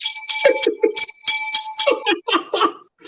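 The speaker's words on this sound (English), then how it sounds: "You were ringing the bell." A bell rings in quick, bright bursts over about three seconds, close and fairly loud, with someone chuckling in between.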